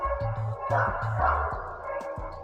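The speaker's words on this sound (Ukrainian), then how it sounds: "Можете перестати там гавкати?" Dogs bark outside on a street in a quick, repeated series of yips and barks, fairly loud over a steady background of tonal sound.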